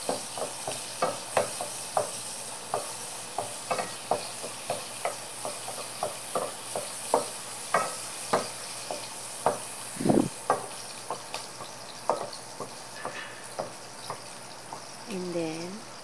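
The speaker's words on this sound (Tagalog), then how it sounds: "Just keep stirring it" Food stirred in a sizzling pan, a spoon scraping and clacking in a steady rhythm over soft frying, close and moderately loud throughout.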